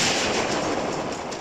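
Gunk Shot, a poison attack from Pokemon Ultra Moon, lands as a dense, loud burst of noisy blasting that holds steady for over a second with no voice over it.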